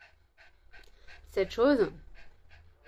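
Dog panting rapidly in short rhythmic breaths close by, while someone speaks French over it.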